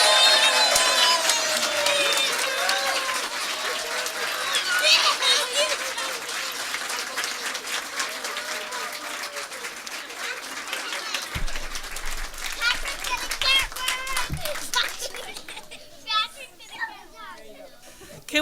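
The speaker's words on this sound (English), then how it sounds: "a round of applause for our TK" Audience applause for a TK class of young students at a school board meeting: a sustained wash of clapping mixed with children's chatter and excited kid voices, fading toward the end as a few voices carry on.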